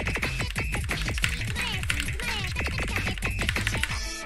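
Rapid, steady typing on a 60% mechanical keyboard fitted with O-rings gives dense, close clacking keystrokes with slightly damped bottom-out, continuous for several seconds with no speech.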